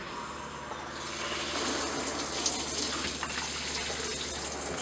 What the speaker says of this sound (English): See the pink fluid coming out there.